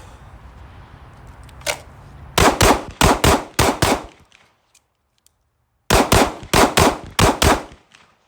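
A Glock pistol fires repeatedly on a range, in two close, loud strings of about six sharp shots each, separated by a short silent pause.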